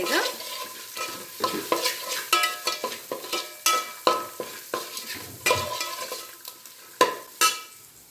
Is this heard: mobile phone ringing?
no